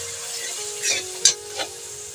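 Half a cup of water poured over spices frying with browned onion for a raw jackfruit curry, raising a steady broadband sizzle with a few brief louder bursts of hissing and stirring, close and without talk.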